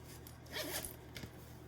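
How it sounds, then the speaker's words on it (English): The zipper of a Vera Bradley Harry Potter cord organizer is drawn along, a soft, close, ratcheting zip in two short pulls, quiet against faint room hiss. "it zips all the way down"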